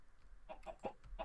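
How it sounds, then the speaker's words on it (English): Chickens clucking in the Minecraft modpack Stoneblock, a few short clucks spaced through a quiet game scene with no talk over them. "chickens, chickens."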